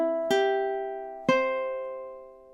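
Ukulele playing measure 11 of a tune: two ringing plucked notes or chords about a second apart, each left to sustain and fade, played close and alone.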